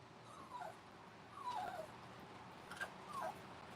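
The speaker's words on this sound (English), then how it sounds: "Dog." A dog whimpering at home, soft high whines rising and falling in three or four short plaintive bursts, faint and close in a quiet room.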